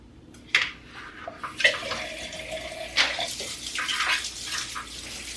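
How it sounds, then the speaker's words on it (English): Snow peas are rinsed under a running kitchen tap, with water gushing in several bursts and splashing against the pods, close and fairly loud. "I really need to rinse them off"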